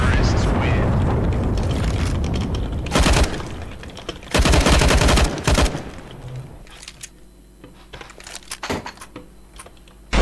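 Gunfire from the video game CS:GO, with loud bursts of rapid shots and booming blasts over a dense game soundscape, fading to scattered single reports later on.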